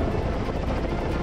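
A helicopter airlifting heavy core drilling equipment up a mountain in Brienz/Brinzauls, Switzerland, gives a steady, loud, pulsing rotor roar that fills the whole moment without a break.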